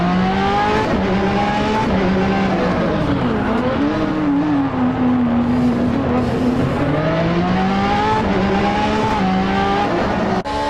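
Hypercar engine in a sim racing game at Road America, loud and continuous, rising and falling in pitch through gear changes and corners, with faint tire squeal underneath and no talk.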